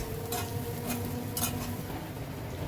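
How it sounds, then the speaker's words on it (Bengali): Onions stirred and fried in a pan over a medium-high gas flame, a steady close sizzle broken by a few bright scraping clinks of the spoon against the pan, with no talking. "অনবরত নেড়ে চেড়ে পেঁয়াজটাকে আমি খুব ভালো করে ভেজে নেব।"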